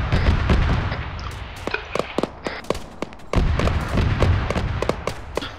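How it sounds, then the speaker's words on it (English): Rapid bursts of rifle fire in the military video game Arma 3, sharp cracks clustered in quick volleys over a rumbling background, some near and loud, others more distant. "rapid fire."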